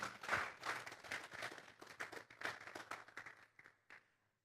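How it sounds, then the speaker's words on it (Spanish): A church congregation claps hands as an offering to God, a short burst of close, brisk applause that thins out and fades within a few seconds. "Vamos a darle una ofrenda de palmas a Dios en esta mañana."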